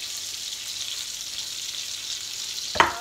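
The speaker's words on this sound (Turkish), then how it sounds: "Unumuza batırıp kızartma tavasına yerleştiriyoruz." Sardines coated in sauce and corn flour fry in a pan with a steady close sizzle, ending in a brief sharp clatter, no talking.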